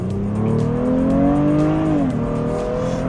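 A Honda Pilot SUV accelerates hard, its engine note climbing steadily in pitch for about two seconds before the revs drop sharply, loud and close with continuous road and cabin noise beneath.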